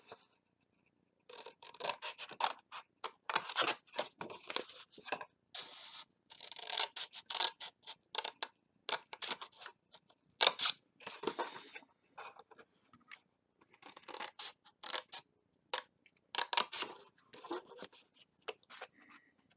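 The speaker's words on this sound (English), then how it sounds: "We're going to take our scissors and we're going to cut down each of these score lines right to the score line that goes across" Scissors snip through card along score lines, a run of short, crisp cutting strokes in uneven bursts with brief pauses, close and fairly quiet, no talking.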